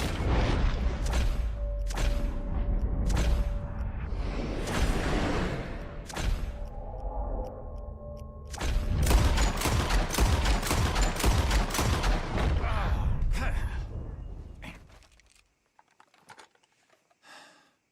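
Gunfire in a Western shooting contest from Red Dead Redemption 2, with repeated sharp shots firing in quick bursts over a steady background for about fifteen seconds, then fading to near silence.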